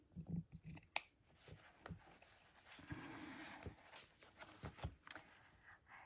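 Scissors cutting paper rosebuds for a shabby chic Christmas craft: a quick run of close, quiet snips and crisp paper rustles, uneven in rhythm, with a soft low murmur in the middle stretch.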